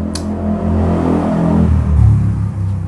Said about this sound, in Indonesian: Ada motor lewat, kita iklan dulu.